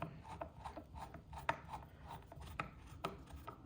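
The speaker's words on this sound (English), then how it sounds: "we'll put those two screws in" Two screws are turned by hand into the underside of a Cubii JR2 under-desk elliptical, giving a steady run of soft, rhythmic scraping and rasping strokes up close, with a few sharper clicks.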